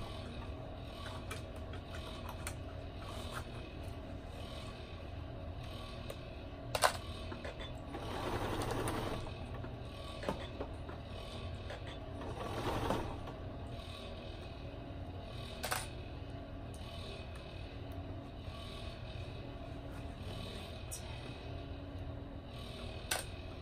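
Sewing machine stitching around the edge of a quilted car seat poncho, a faint, low, continuous mechanical whir with scattered clicks and a few brief louder bursts.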